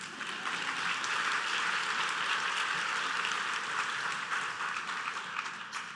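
Steady audience applause fills a business finance forum's opening plenary, a dense wash of clapping held at an even level for about six seconds before tapering slightly at the end.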